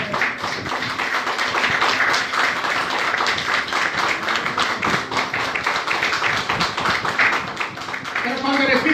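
A congregation claps steadily for several seconds, a dense wash of applause with speech running over it.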